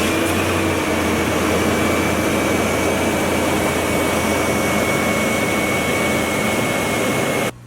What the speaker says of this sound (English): As you can see, this engine is clearly running fine.